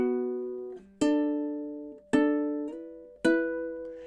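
Ukulele playing a bar of a song, four crisp chord strums in a slow even rhythm, each ringing out with small sliding pitch changes between them, close and clear, no voice.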